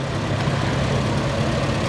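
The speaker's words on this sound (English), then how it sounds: "It's a petrol TVO engine powering this tractor." A vintage tractor with a petrol TVO engine runs steadily at an outdoor steam fair show ring, a continuous low throbbing engine drone with no breaks, fairly loud and close.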